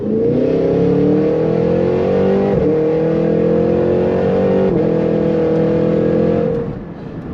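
An 800 hp Cadillac Escalade V pulling hard in second gear, its engine loud and close, pitch climbing steadily with two brief dips as it pulls through, then easing off at the end.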